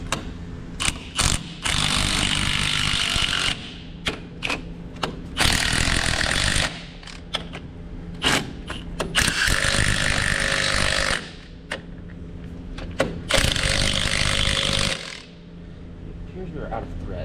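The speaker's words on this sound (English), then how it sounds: "We're gonna take these new bolts, run these down, and hopefully this will pop out" Bolts being run down to pop out a pin from a stuck cylinder, loud ratcheting bursts of mechanical clatter alternating with brief pauses, close by and repeating several times.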